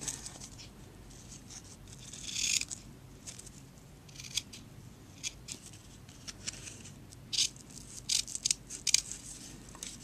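Scissors snipping the paper tails on a handmade cupcake slider card, a quiet close series of short crisp cuts in irregular bursts with no voices.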